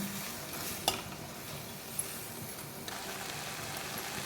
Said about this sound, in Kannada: ಶುಂಠಿ ಬೆಳ್ಳುಳ್ಳಿ ಪೇಸ್ಟ್ ಹಾಕೋಣ. ಹಸಿ ವಾಸನೆ ಹೋಗೋರಿಗೆ ಹುರ್ಕೊಳ್ಳೋಣ.